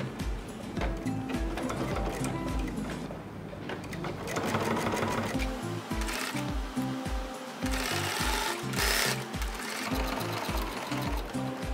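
A sewing machine runs in close, steady bursts of rapid stitching, pausing and restarting as it sews a seam on a fabric bag made to hold a coffee mug set.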